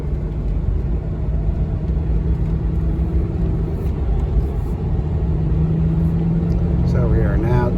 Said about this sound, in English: So we are now getting on the interstate. There's 4th, foot to the floor.